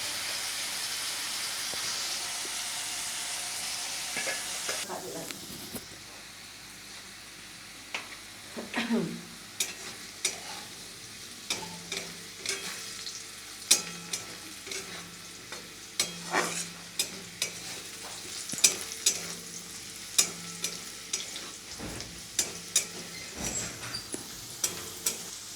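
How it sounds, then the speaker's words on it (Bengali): Potato and carrot pieces frying in a pan for chira pulao, with a steady soft sizzle and repeated scraping stir strokes throughout, close and moderately loud, no talking. "বন্ধুরা, আমার আলু আর গাজর ভাজা হয়ে গেছে।"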